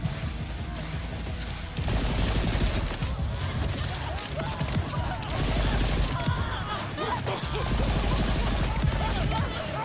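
Continuous gunfire from the video game Borderlands 4, a steady rapid stream of shots and crashing impacts that runs loud and unbroken through the whole stretch, layered with game effects.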